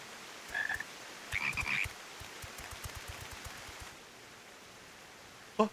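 Frogs croak in Final Fantasy XIV Endwalker, a few short bursts of warbling croaks near the start, then scattered soft ticks and a sudden sharp croak at the very end over quiet ambience.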